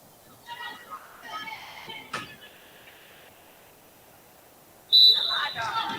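A referee's whistle sounds during a high school volleyball match, a short bright blast in a gym over faint crowd noise and distant voices, with a louder burst of shouting and cheering near the end.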